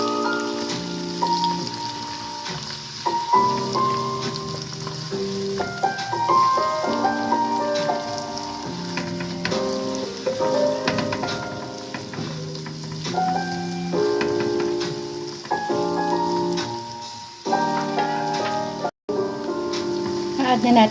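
Onions frying in oil for chicken biryani give a steady, soft sizzle that runs beneath louder background music throughout.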